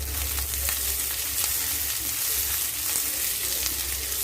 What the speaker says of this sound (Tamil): அதுக்கு ஒரு கடாயில் எண்ணெய் சேர்த்து நம்ம கட் பண்ணி வச்சுருக்க வெங்காயத்தை அதோட ஆட் பண்ணிக்கலாம்